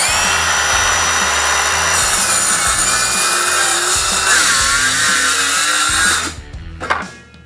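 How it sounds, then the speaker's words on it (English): A WORX 20V ExacTrack saw runs loud and close as it plunge-cuts into wood: a steady high-pitched whine with rough cutting texture for about six seconds, then it cuts off and the blade spins down. "Making plunge cuts with your ExacTrack saw is very simple and easy."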